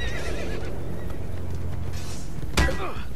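A horse in Assassin's Creed Brotherhood gives one loud, sharp whinny near the end, over a steady rumble of game background sound.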